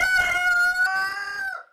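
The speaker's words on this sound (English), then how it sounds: "So here's a bantam chicken, and you can see how little she is." A small, fully grown Old English Bantam hen gives one drawn-out, crowing-like call, close and clear, fading away at the end.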